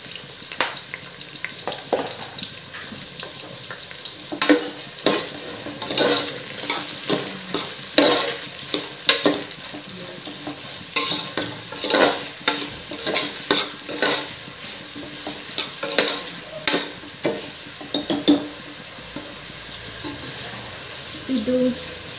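Onions fry with salt in a pan, a steady sizzle running under frequent scraping and stirring strokes of a spoon against the metal, close and fairly soft.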